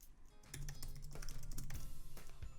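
Rapid, close clicking of computer keyboard keys as a comment is typed, an uneven run of distinct taps with a few heavier strokes and no speech.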